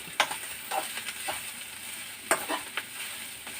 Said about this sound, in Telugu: కొబ్బరి మాడకుండా ఫ్రై చేస్తూ ఉండాలన్నమాట.